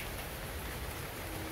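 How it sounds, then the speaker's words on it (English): A hailstorm in North Vancouver on a January afternoon, a dense, even hiss of ice pellets striking surfaces all around, continuous and close with no voices. "We have got a, right in the face, a hailstorm."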